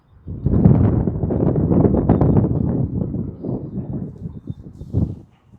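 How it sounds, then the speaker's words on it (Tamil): Strong night wind in Saudi Arabia buffets the microphone in a heavy, rumbling rush that swells and gusts, then drops away at the end. "காற்றும் செம்மையாக அடிக்குது அப்பா"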